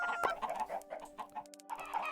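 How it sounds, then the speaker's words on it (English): Several chickens cluck in the video game Minecraft, a run of short, close clucks and bursts with a brief quiet gap before more clucking resumes, no talking. "Let's harvest some chickens."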